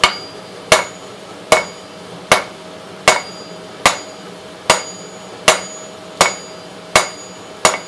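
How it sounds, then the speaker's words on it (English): A hammer strikes hot metal on an anvil while forging a crane, with eleven sharp ringing blows at a steady pace of roughly one every 0.7 seconds, close and loud with no talking. "I can hit this with my hammer."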